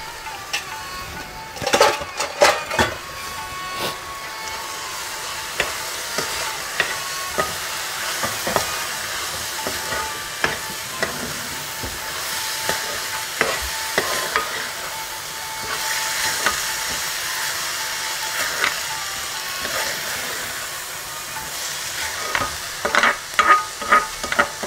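Rice and methi are warmed in a hot pan for a Karnataka-style methi rice bath. A soft sizzle and hiss is broken by repeated scraping stir strokes that come in irregular bursts, close by, with no talking.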